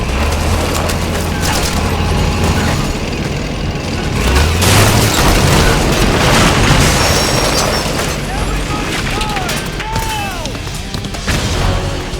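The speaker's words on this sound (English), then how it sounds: "Suppressing fire!" Dense, loud gunfire and booming explosions from a Metal Gear Solid 4 battle, sustained across the whole stretch as suppressing fire, with bursts, crashes and whistling sweeps over constant rumble.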